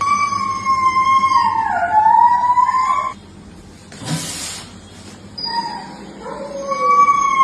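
Stray dogs at an MCD dog center in India howl in long, wavering cries that rise and fall, several voices overlapping. A short noisy burst interrupts them before the howling resumes, fairly loud and close.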